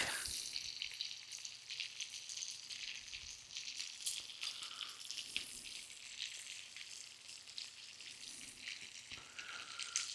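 Fries sizzle steadily in hot oil, a dense crackling hiss with scattered pops that holds at an even, moderate level with no voices over it.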